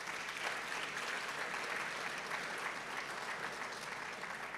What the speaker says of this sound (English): Let's give a hand of applause for KCCR.